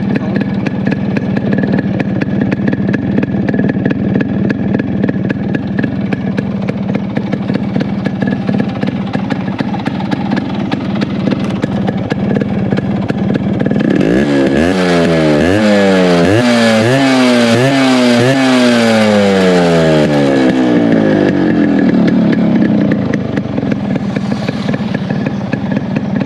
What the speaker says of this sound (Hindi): इसके बाद आपको रेव करके सुनाऊँगा।